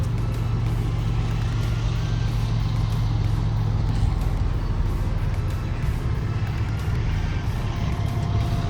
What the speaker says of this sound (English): Gotta find a place to park my truck for the night.